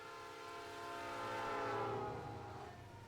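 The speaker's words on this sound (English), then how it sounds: "Train's leaving any minute." A departing train in the video game Pokémon Reborn, a sustained rumbling rail sound with a tonal horn-like layer that swells and then eases slightly, steady and fairly close.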